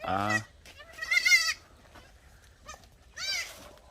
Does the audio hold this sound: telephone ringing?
no